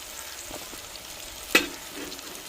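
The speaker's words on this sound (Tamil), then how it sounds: "வெங்காயம் வெள்ளைப்பூடு தக்காளி பச்சை மிளகாலாம் எண்ணெயில் எல்லாம் வதங்கி வந்துருச்சு" Onion, garlic, tomato and green chilies frying in oil, a faint, steady sizzle with one brief sharp pop or spoon scrape midway and no voices.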